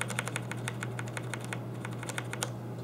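Typing on a SteelSeries 6GV2 mechanical keyboard with Cherry MX Red switches, keys pressed with and without O-rings fitted; a rapid, close series of crisp clicks and clacks in an uneven rhythm, with no talking.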